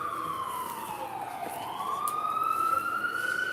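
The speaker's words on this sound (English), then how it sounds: "he is wailing that siren like crazy" Ambulance siren wailing on Fordham Road, a loud sweeping tone that dips and climbs again over steady city traffic noise, growing closer and louder toward the end.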